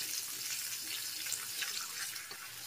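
Water runs in a soft, steady stream as it is added to a vegetarian bottle gourd curry being cooked with ginger paste, a faint, continuous splashing trickle with no voices.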